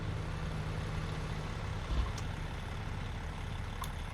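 A modern truck engine in American Truck Simulator runs with the cab windows rolled down, a faint, steady low drone with a slight swell partway through.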